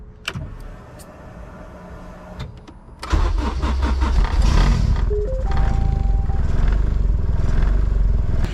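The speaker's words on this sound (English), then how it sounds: "I'm gonna go ahead and let the car warm up a little bit before we take off." A 1993 Honda Civic Si hatchback engine cranks briefly and catches with a loud rise, then settles into a steady, rough idle close by, with a short electronic tone sounding partway through.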